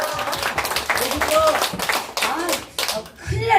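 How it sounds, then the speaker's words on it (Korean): Clapping for a guest arriving on a Korean live broadcast, with a few people clapping close by in quick, uneven bursts and voices talking over it. "박수 한번 보내주세요"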